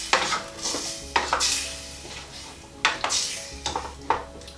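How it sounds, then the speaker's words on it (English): Potatoes and water are stirred in a metal pan for vegan sag aloo, with repeated close scraping and clinking strokes of a utensil against the pan over a faint low hum. "Stirring around."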